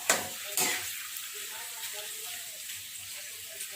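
Potato crackers frying in a pot of bubbling oil, a steady close sizzle with soft crackling and popping, a couple of louder stirring clatters near the start, no talk.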